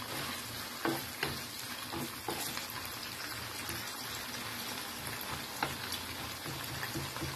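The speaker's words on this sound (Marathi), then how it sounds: "आणि ही कांद्याचा पात आणि कांदा बारीक केलेला हा टाकून चांगले मिक्स करून घ्या." Egg fried rice with chopped spring onion and onion sizzles steadily in a hot pan, with scraping stirs and occasional louder clatters of the utensil against the pan, close and continuous.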